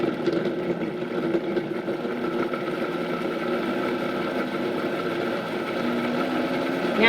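Steady, loud whirring drone of a blender mixing a vegan mayonnaise base with Dijon mustard and maple syrup, running continuously without pause.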